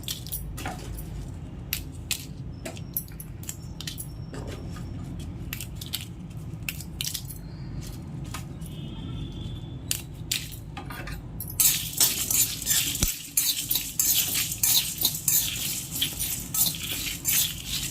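Dried red chillies dry roasted in a pan for a spice powder, giving scattered small metallic scrapes and taps of stirring, then a louder, denser rustling sizzle in the second half.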